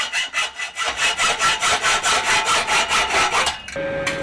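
Saw cutting through material in a workshop: a steady run of loud, close, rhythmic back-and-forth strokes that stops abruptly near the end, followed by a quieter hum.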